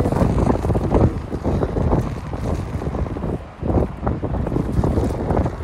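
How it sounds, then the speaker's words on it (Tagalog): Strong wind roars and buffets loudly throughout, with gusty rumbling rushes and no voices. "Grabe ang hangin. Ayan o guys, ang hangin."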